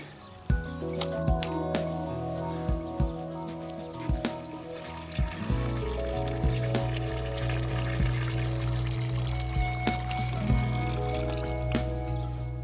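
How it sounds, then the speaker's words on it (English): Water is poured over the soil around a newly planted clematis to soak it, with continuous splashing, dripping and soft squelching up close and scattered sharp drips throughout. "Now the next phase is to give it a really good soak."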